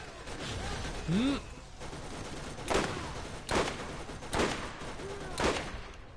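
Gunfire in the video game Borderlands aimed at a turret, several loud bursts of shots at a regular pace over steady game sound, with a rising electronic tone early on.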